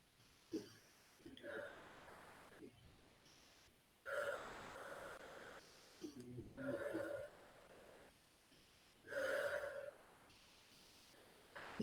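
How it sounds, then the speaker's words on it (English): A person does a rhythmic panting breathing exercise, with bursts of quick, raspy breaths repeating in regular sets separated by short pauses, close and moderately loud. "Just keep that panting going"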